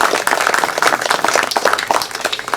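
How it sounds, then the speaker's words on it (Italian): Brief audience applause welcoming the winners and finalists at a national poetry prize ceremony in Ischitella, a lively burst of many hands clapping, close and fairly loud. "pongo intanto come per accogliere i vincitori, i finalisti, con un nostro applauso di benvenuto"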